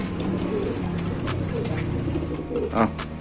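Racing pigeon, a tournament flier, cooing in soft repeated low calls close by, with a steady background murmur under it.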